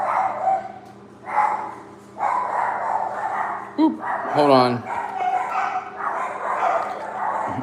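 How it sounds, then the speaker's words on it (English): A small pet dog barks several sharp, close yips in a home, with a person talking over and between the barks. "My little dog's barking"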